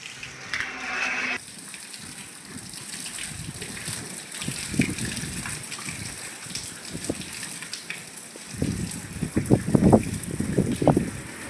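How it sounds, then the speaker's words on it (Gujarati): Rushing, gushing water with a steady broadband roar, swelling louder toward the end, with some low rumbling underneath. "આ પાણી ચાલુ થઈ ગયા છે"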